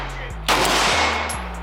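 A gun fired at an outdoor range with explosive rounds: one loud, close broadband blast lands just before the midpoint and rings on to the end over a steady low hum.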